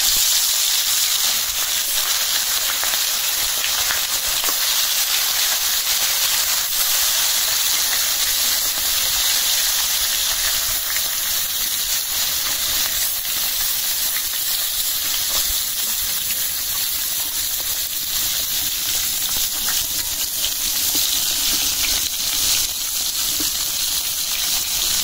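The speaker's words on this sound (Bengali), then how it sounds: "তেলটা গরম হয়ে গেছে, মাছ দিয়ে দিই।" Local koi fish fry in hot oil in a Bangladeshi village kitchen, a loud, steady sizzling hiss that holds evenly for the whole stretch with no talking.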